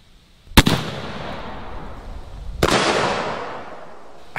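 Two loud, sharp shotgun blasts from a Zeus 12 gauge firing one-ounce Clay Buster loads through a full choke at 50 feet, spaced about two seconds apart, each with a decaying outdoor echo.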